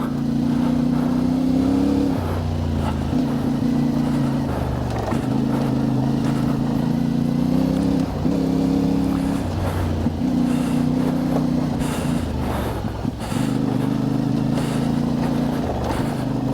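A CF Moto 450MT adventure motorcycle fitted with KENDA Big Block tyres rides a rocky trail, its engine droning steadily and loud with pitch dips and surges as the throttle changes, no talking.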